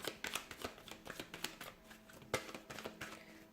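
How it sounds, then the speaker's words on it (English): Tarot cards are shuffled in a steady run of crisp riffling snaps and soft slaps, close and fairly quiet, with no talking. "let's go ahead and give the cards a shuffle here"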